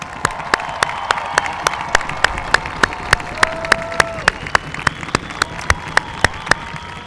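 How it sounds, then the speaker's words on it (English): An audience at a high school graduation ceremony claps in a steady, even rhythm, sharp regular beats rising above a soft crowd murmur. "Let's give them one big round of applause."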